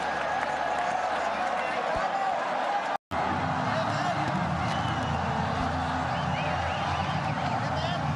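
Cricket stadium crowd roaring and cheering as Babar Azam completes a run in an ODI against Sri Lanka, a dense sustained wall of crowd noise with commentary talk over it and a brief dropout partway through.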